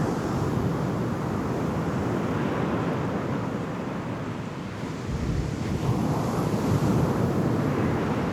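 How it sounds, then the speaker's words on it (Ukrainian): Steady sea waves washing ashore, a continuous loud surf roar with some wind rumble, swelling slightly near the end. "Почуйте хвилі моря."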